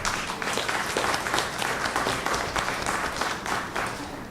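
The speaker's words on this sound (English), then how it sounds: "we have to give our councillor Vidya a round of applause for this" Sustained audience applause at a community consultation on street dwelling in San Fernando, dense steady clapping from a crowd throughout.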